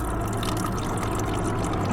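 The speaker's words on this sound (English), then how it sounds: "I'm going to put some more water here so I can shake and clean the shaker." Water poured into a plastic protein shaker, a brief continuous rushing fill, close and steady, heard alone without talk.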